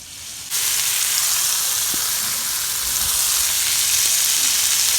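Bitter gourd slices fry in oil on a hot tawa, a steady loud sizzle that starts abruptly and holds unbroken throughout, with no talk over it.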